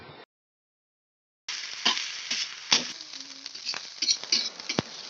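Fried rice seasoned with salt, flavoring and soy sauce sizzles in a pan as it is stirred, with scraping and patter of a utensil over steady frying hiss after a brief silent gap.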